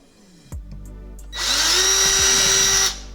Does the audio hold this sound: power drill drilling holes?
yes